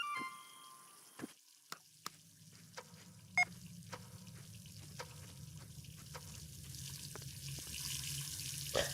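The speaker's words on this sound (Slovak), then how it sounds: "Bola spustená voda" Water runs steadily in a Minecraft house, a faint, even rushing hiss that grows a little louder, dotted with a few soft clicks.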